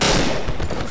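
Rapid gunfire from a video game's weapons in Cry of Fear, a dense burst of loud, overlapping shots filling the whole moment without pause.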